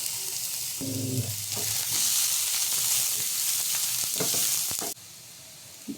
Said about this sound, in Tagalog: Dito na natin i-gisa yung ating bawang, sibuyas at